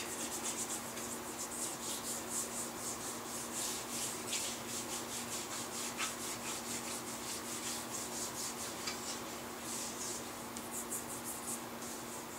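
Hand rubbing finish into a wooden gunstock, a steady soft rasping friction in quick repeated strokes, close and continuous with no talk.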